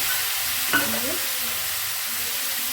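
Ground spice paste with turmeric frying in a pan, a steady bright sizzle with one brief scrape of stirring early on; no one speaks.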